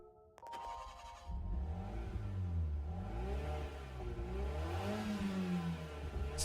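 Daihatsu Copen with a 660cc turbocharged three-cylinder engine in Gran Turismo 7, revving and accelerating steadily with rising and falling pitch through gear changes, loud and close, with no talk.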